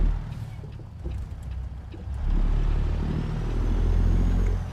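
Detroit 14-litre diesel engine of a truck in American Truck Simulator, a steady low drone that swells and grows louder partway through, heard alone without talk.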